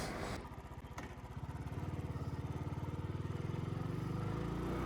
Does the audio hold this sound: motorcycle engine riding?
yes